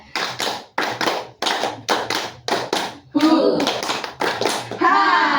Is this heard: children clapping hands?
yes